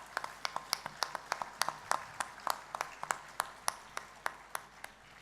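Applause at a charity dinner: sparse, evenly paced clapping from a modest number of hands, crisp individual claps repeating steadily and fairly close.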